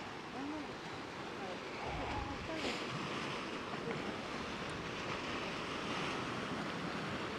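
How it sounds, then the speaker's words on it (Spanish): Ocean waves roll in at the Maule river mouth in Constitución, Chile, during a tsunami alert, a constant washing roar of surf heavily mixed with wind buffeting the microphone. "ahora viene haciendo ingreso otro tren de olas"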